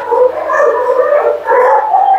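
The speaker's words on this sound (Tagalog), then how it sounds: "Ang daming aso dito." Several dogs howl together at a dog breeder's, long wavering cries that rise and overlap, loud and close, with a brief dip before the howling resumes.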